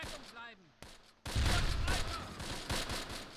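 Heavy gunfire and fusillades in a Close Combat World War II tactics battle near Barenton, 1944: a brief whistle and a few sharp cracks, then a loud dense barrage of overlapping shots and blasts rolling on without pause.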